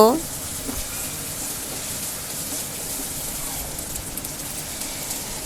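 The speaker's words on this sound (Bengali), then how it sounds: "আলুগুলাকে আমি 3-4 মিনিটের মতো ভেজে নেব।" Potatoes and onions frying together in a pan for a hilsa fish curry with long beans: a steady, even sizzle and hiss that continues without a break throughout.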